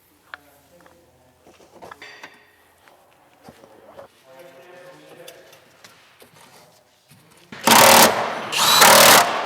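Power tool bolting down the rear strut on a GR Corolla during a coilover install, two loud sustained bursts of whirring near the end after quieter shop clatter and faint footsteps.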